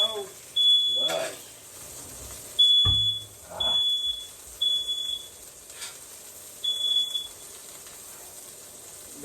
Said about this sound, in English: That is one of the lamest places to put a smoke detector, that close to the stove.